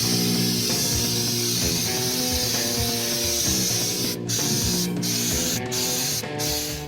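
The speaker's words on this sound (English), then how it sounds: "we're going to do the inside of the frame rail and the back of the apron assembly" Undercoating sprayed inside the frame rail of a 1965 Mustang: a loud, continuous aerosol hiss up close, broken by a few brief pauses near the end.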